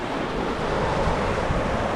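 Steady ocean surf washes continuously, a dense rushing roar with some wind buffeting the microphone.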